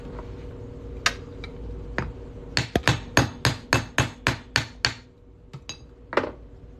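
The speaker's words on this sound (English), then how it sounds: "We're going to hammer this on through here." A triangle center punch hammered through a silver coin on a metal surface: a few scattered taps, then a quick run of about ten sharp, ringing metallic strikes in steady rhythm, close and loud, fading to a couple of final knocks.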